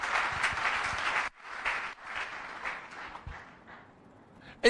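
A church congregation cheers and applauds loudly for a moment, then the clapping thins into scattered, fading handclaps over a few seconds.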